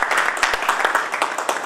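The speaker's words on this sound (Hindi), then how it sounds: "एक बार सुनील आनंद जी के लिए जोरदार तालियां चाहिए," Loud, close applause from a seminar audience at a real estate event, a brief burst of quick, uneven hand claps.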